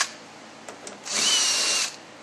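A power drill driving bolts while installing a Mitsubishi DSM shift kit: a couple of short clicks, then a single loud whirring burst of just under a second, close and alone.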